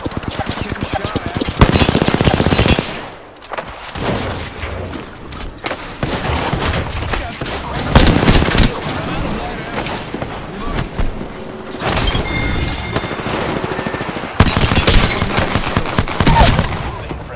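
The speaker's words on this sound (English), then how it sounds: "Getting shot at." Loud, rapid automatic gunfire from an Apex Legends firefight, with dense bursts and heavy impacts recurring across the clip, broken by brief lulls and punctuated by booming thuds, with voices calling out between shots.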